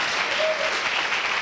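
A church congregation applauding during a worship service, with steady dense clapping filling the room at an even loudness, close and continuous throughout.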